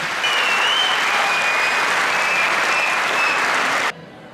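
Loud, sustained applause from an audience at a Turkish public ceremony honoring an army command, steady dense clapping for nearly four seconds before cutting off abruptly.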